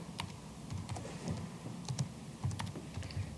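Faint, steady typing on a computer keyboard, with a continuous patter of light key clicks over soft room noise and no voices.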